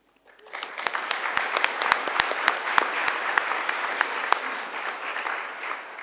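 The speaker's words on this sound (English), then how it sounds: "Give yourself a massive round of applause for making it here." Sustained audience applause greets a medical school welcome ceremony for a new cohort, rising quickly after a quiet start and holding steady with sharp individual claps standing out across a large room, no talking heard.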